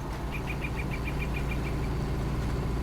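Claas tractor engine in Farming Simulator 19 running at a steady idle, a continuous low rumble with a faint repeating whine pulsing above it for the first couple of seconds, no talking.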